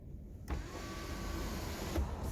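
Electric glass sunroof of a 2015 Volkswagen CC 1.4 TSI raised by button, a faint click followed by a steady motor whine for about a second and a half, ending in another click, quiet inside the cabin.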